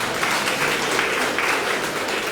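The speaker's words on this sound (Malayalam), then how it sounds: "കൈയടിച്ച് കർത്താവ്" An audience at a charismatic church retreat in Ernakulam claps together, a dense, continuous burst of applause that holds steady through the short moment without any speech.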